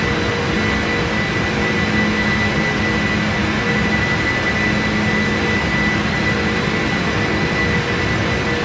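A Boeing 747 in the PMDG flight simulator turning right after takeoff, with a continuous loud, broadband jet engine roar and a faint whine, steady throughout.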